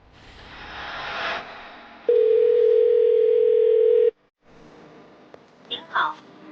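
A telephone line gives one steady, loud, two-second tone in the middle, with soft hiss before it and a few faint sounds after it stops.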